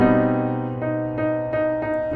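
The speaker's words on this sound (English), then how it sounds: "B dominant 7 with a raised 9 and a raised 5" A sustained, harmonically rich B dominant seventh sharp nine sharp five chord rings out, with a few soft note re-attacks along the way and no voices.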